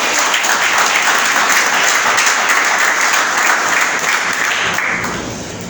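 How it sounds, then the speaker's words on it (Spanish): Steady, loud applause fills a church service, a congregation clapping continuously before tapering slightly at the end. "Denle un aplauso a Jesús."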